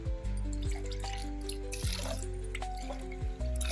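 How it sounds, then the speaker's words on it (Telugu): Water is poured onto soaked toor dal in a vessel, giving a run of hollow, resonant glugs and drips with clear rising tones, close and fairly quiet, with no voices. "వాటర్ పోసేసుకుందాం"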